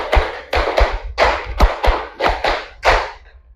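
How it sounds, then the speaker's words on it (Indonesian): A class claps hands in unison, counting beats in rhythm: groups of sharp, loud claps with short pauses between them, heard up close in a classroom. "2 kali tepuk 5."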